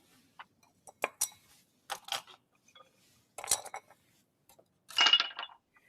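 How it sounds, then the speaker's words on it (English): Ice added to a rimmed cocktail glass for a tequila margarita: several bursts of cubes clinking and rattling against the glass, close and crisp, separated by short pauses, ending in a fuller clatter, with no one talking. "We're actually going to add ice into this glass right now, just to kind of help chill it down."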